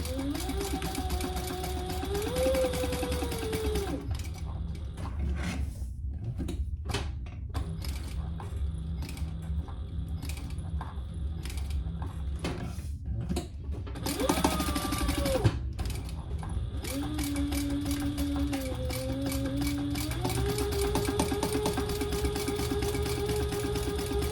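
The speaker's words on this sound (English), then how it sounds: "I'm going to chain stitch since I cut it in half already." A sewing machine chain-stitches fabric for a slim duffle bag, running in a long, steady, close mechanical whir that slows and pauses a few times before speeding up again; no one talks.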